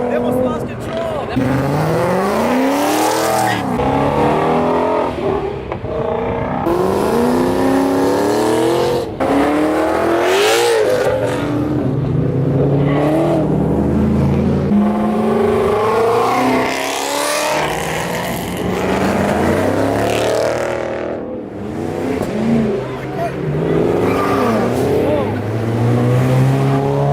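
Mustangs leaving a Cars and Coffee meet rev and accelerate hard one after another, loud rising engine sweeps with gear-change dips, tire squeal and passing roars, with spectators talking and cheering throughout.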